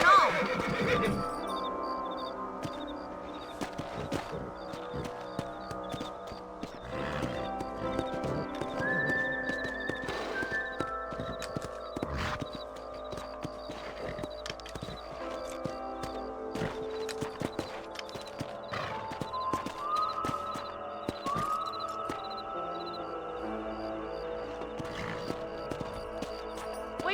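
In the Red Dead Redemption video game, horses neigh and whinny several times while hooves clip-clop in a steady rhythm throughout, with people talking and ambient game sounds layered over the long stretch.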